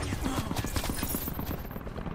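Rapid gunshots in Black Ops 4 Team Deathmatch, a quick rattling string of close, punchy shots over about two seconds, with a faint voice in the background.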